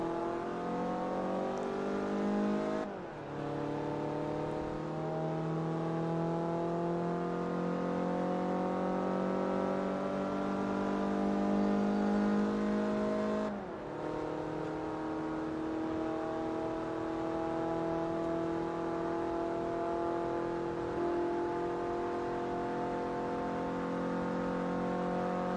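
A Toyota Yaris engine revving and accelerating in the racing game Forza Motorsport 3, a steady rising drone climbing in pitch through two gear changes with brief dips, continuous and fairly loud with no talk.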